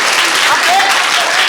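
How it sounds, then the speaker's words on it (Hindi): Schoolchildren in Bihar clap loudly and steadily together, a dense wash of applause filling the whole moment with faint voices mixed in. "जोरदार तरीका से ताली बजाओ आप लोग"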